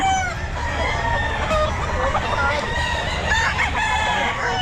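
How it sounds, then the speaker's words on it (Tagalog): Several roosters crow over one another amid steady clucking at a pet market, some near and some farther off, in a busy, noisy din. "Quality mga manok ni Busapon."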